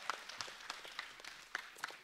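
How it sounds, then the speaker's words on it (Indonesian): Audience applause during a live on-air broadcast event, a brief stretch of scattered clapping with distinct sharp claps rising above a soft, thin crowd patter. "Tepuk tangan dong sekali lagi untuk seluruh media partner dan sponsor kita hari ini."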